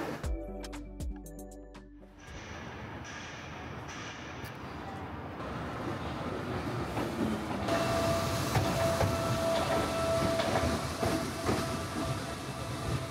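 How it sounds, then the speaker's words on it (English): Steady rumbling and rattling from inside a moving train car travelling from Dublin to Howth, a continuous loud roar with faint rhythmic clatter and a thin whine rising midway. "we have the whole train car to ourselves currently"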